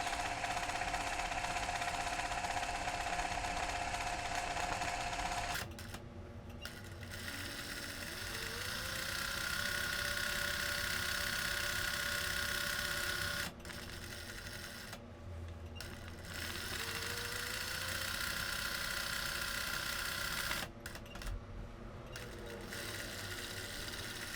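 A sewing machine stitching free motion embroidery on upcycled clothing runs in long steady whirring bursts with brief pauses between, close and continuous.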